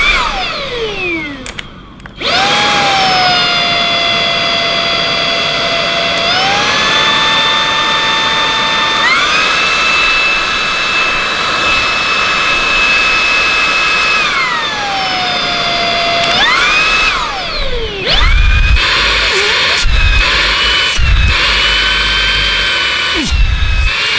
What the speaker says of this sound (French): ça fait le bruit d'un aspirateur cyclone